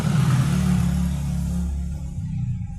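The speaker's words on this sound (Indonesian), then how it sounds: "Abaikan suara motor." A motorbike engine drones loudly close by as it passes, a low mid-pitched hum that fades away over the last second, heard without any talk.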